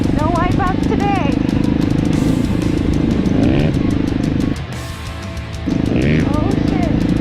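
An Apollo 250cc dirt bike engine drones steadily and loud on a trail ride, held in second gear with small throttle swells and one brief dip, as the rider talks over it throughout.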